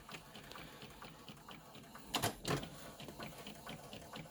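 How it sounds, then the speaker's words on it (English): A printer runs quietly, printing sublimation transfer images onto ordinary printer paper, with soft rhythmic ticking of the print head and a brief louder mechanical whirr midway. "as you can see, it's printing the images out"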